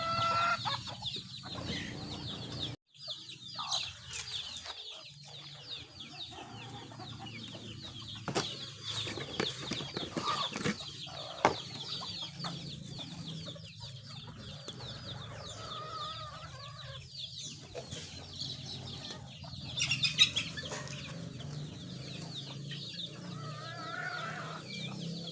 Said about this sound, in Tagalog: Nagwawala na rin yung ating mga alagang manok.